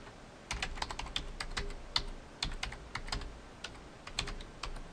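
Quick, uneven clicks of a computer keyboard as login credentials and a password are typed, crisp and fairly close in an otherwise quiet room.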